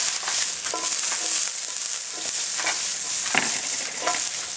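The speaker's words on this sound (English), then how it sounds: "When you smoke like that, you can add a little oil. Cut it in half. Add your onions." Onions and spiced shiitake mushrooms stir-frying in smoking-hot oil, a bright, continuous sizzle broken by several sharp utensil scrapes and tosses at an irregular pace, close by with no talking.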